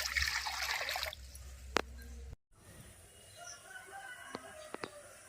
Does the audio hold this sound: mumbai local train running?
no